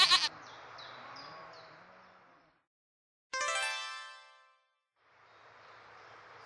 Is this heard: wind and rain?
no